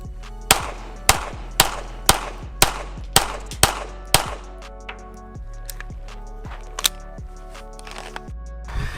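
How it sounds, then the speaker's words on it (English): A Smith & Wesson M&P 2.0 pistol with a 5-inch barrel fired on a range: eight sharp, loud shots in a steady quick rhythm, then fainter scattered clicks and knocks. "let's just get some shooting footage of this gun on the side to see the recoil"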